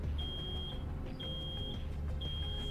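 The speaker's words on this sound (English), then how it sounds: "It's an alarm." Repeated high electronic alarm beeps in the video game Road 96, three long tones spaced about a second apart over a steady low background hum, with no talk.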